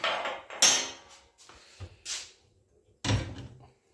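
Metal burner caps on a gas stove being lifted off one by one, giving a few separate knocking clunks with short quiet gaps between them, close by.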